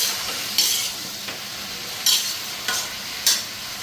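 Vegetable curry is stirred in a wok over low sizzling, with four distinct scraping strokes of the spoon spaced about a second apart, quiet and close, no voices.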